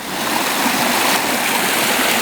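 McGee Creek in the Tulameen rushes steadily past, a loud unbroken wash of flowing water with no voices.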